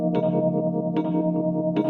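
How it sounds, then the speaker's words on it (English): Guitar played through a phaser effect pedal in normal mode, with sustained chords repeatedly struck and sweeping with a swirling, whooshing phase movement. "Switch to normal for your more stereotypical phaser sound."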